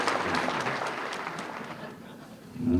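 Hall of Fame induction crowd applauds racing driver George Savary, a short burst of clapping that fades, then a voice begins at the end.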